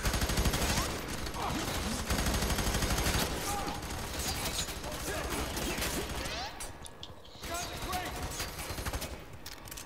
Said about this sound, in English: Oh, it's a shotgun when you need one.